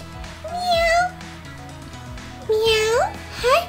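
A cat meows several times up close, drawn-out and rising, with short quiet gaps between the calls.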